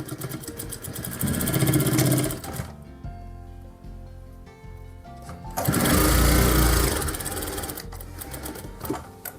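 An electric sewing machine stitches a lined kameez in two loud, steady bursts of fast mechanical whirring with a quieter pause between, close up.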